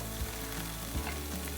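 Garlic, ginger and chilies fry in a pan for vegetable egg fried rice, giving a steady, fairly quiet sizzle with a few soft low knocks from the pan.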